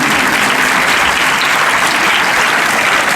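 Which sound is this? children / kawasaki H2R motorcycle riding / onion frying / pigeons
children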